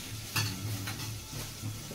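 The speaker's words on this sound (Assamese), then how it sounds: "এতিয়া শেৱালি ফুলৰ পাত বেচনত লেটি পেলাই ফ্ৰাই কৰি থকা হৈছে" Sheuli leaves coated in gram flour batter fry in hot oil with a steady soft sizzle, punctuated by a few light scraping stirs of a utensil in the pan, faint and close.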